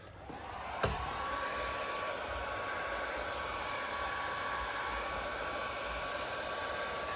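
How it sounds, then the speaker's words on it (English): A heat gun warms the chrome window trim on a 2014-or-later Jeep Cherokee, giving a steady, even blowing whir with a single sharp click near the start and no voices. "So you're gonna grab your heat gun again and heat those two sections."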